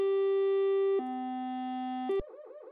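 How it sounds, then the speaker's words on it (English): Electronic warning tones in an airliner simulator game: a sustained buzzy tone shifting pitch partway, cut off abruptly, then followed by a rapid warbling rattle like a stick shaker alert. "That's like a stick shaker noise."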